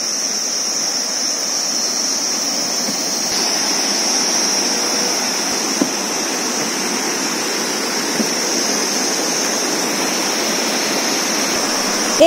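A river rushes and gurgles beneath an old British-era hanging bridge in the forest near Tinchuley, Darjeeling, a steady loud wash of water with a constant shrill drone of crickets on top.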